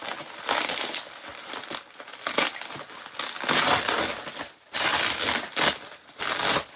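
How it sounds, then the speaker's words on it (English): Packaging around a slabbed comic book being torn and crumpled open by hand, close and loud, in irregular crinkling bursts separated by short pauses. "I like to show me opening the packaging because I think that's important"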